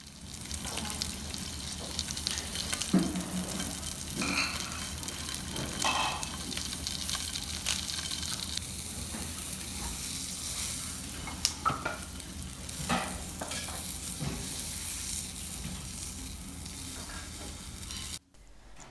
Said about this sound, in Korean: 달군 팬에 참기름을 두르고 겉이 살짝 익을 정도로만 구워줍니다